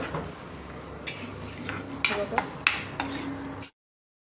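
Spoon stirring salt into cooked pasta in a metal pot, with a soft scraping base and several sharp clinks and knocks against the pot's side near the end before it cuts off.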